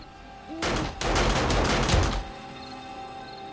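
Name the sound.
automated turrets firing in the pit, from video game 7 Days to Die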